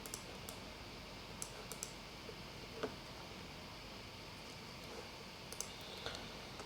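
Light clicking of keys on a computer keyboard during note-taking, sparse and faint taps spread over several seconds against a quiet background hiss.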